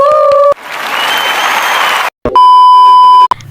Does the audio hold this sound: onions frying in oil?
no